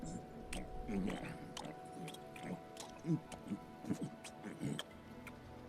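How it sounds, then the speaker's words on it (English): Wet, squishy chewing of fruit in the video game Nine Sols, several soft bites and munches spaced across a few seconds over quiet game ambience and low background tones. "The chewing."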